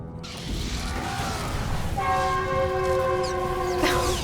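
A passing train rumbles loud and close, its horn sounding steady, sustained tones from about halfway through over continuous rail noise.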